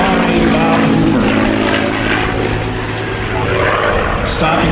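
A P-51 Mustang propeller aircraft flies a 16-point hesitation roll at a military air show, its engine a loud continuous drone that holds steady throughout with slight shifts in pitch.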